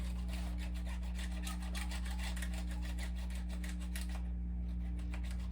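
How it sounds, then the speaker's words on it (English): A steady electric hum with rapid, rhythmic scratchy strokes of a sander held flat on wood veneer, sanding out glue in the seams and rough spots, continuous and close, with no talking. "Got to keep that sander flat on there."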